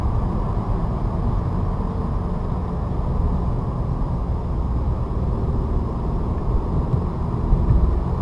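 Steady broadband engine and road roar from a manual transmission car accelerating out of a turn, a constant loud drone with no distinct gear changes or other sounds.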